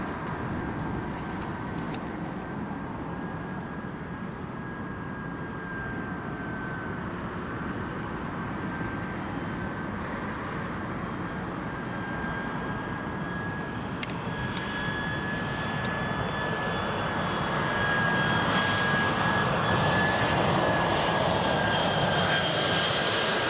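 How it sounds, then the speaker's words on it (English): Jet2 airliner at Newcastle Airport, its jet engines giving a steady, broad roar with a thin high whine, building slightly louder toward the end as it approaches; no talk over it. "here comes the Jet2."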